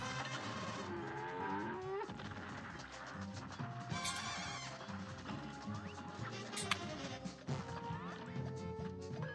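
Cartoon cow moos in the video game Cuphead: The Delicious Last Course, low drawn-out lowing calls over busy game music and effects, fairly faint overall, with a few bright sharp hits.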